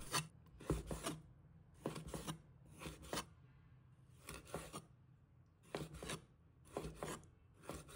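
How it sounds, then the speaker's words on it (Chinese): A knife cuts chicken gizzards into thin slices, producing close, crisp slicing strokes in quick clusters of two or three with short pauses between them. No one speaks. "将鸡胗切成厚度均匀的薄片"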